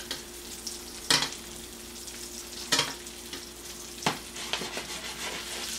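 Salmon fillet pan-frying in a hot pan, a steady close sizzle broken by a few sharp scraping bursts as the fish is shifted around, no voices.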